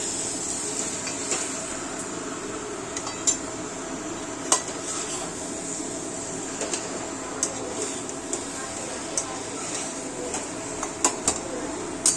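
Chicken gravy being stirred in a pan over medium heat, with irregular metallic clinks and scrapes of a utensil against the pan over a soft, steady background hiss.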